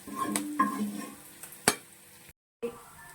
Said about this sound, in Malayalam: എന്നിട്ട് നമുക്ക് ബാക്കിയുള്ള കക്കാരച്ചി കൂടി ഫ്രൈ ചെയ്തെടുക്കാം.